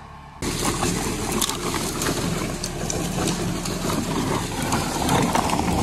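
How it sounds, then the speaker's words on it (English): A small four-wheel-drive Kubota diesel tractor engine runs steadily nearby with a constant low chugging drone, straining slightly under load while pulling a large log. "a little Kubota tractor, 4-wheel drive"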